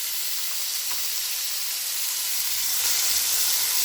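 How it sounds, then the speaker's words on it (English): Onions, garlic and scallions frying in hot oil in a pot for Guyanese cook-up rice, giving a steady, close sizzling hiss that swells slightly louder toward the end, with no talking. "add my onions, garlic, scallions to that pot and let it get start frying it up a bit"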